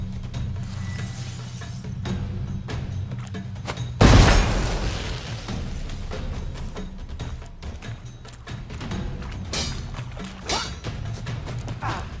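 A bomb thrown in The Witcher 3 goes off in a single sudden, loud boom with a crashing burst, set against steady game ambience and faint mechanical clatter.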